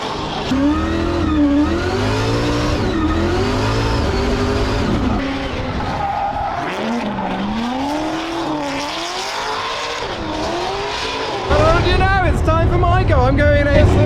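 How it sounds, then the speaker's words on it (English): A BMW E92 drift car with a V8 engine revs hard with rising and falling engine pitch, loud and close, with a harsher burst of revving near the end while people talk over it. "And we now have Sam Hard about to go out in a BMW drift car."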